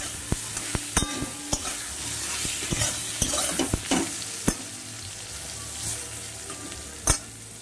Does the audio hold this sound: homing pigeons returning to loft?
no